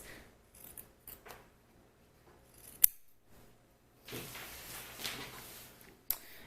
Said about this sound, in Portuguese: Agora, eu vou pegar uma tesoura e vou cortar esse quadradinho que a gente fez.